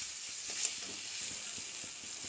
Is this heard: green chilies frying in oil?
yes